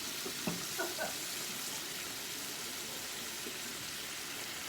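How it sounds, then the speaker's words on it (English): Water poured into a pot of Mexican rice cooking on the stove gives a faint, steady hiss and sizzle, with a few brief clinks near the start. "And then I add some more water."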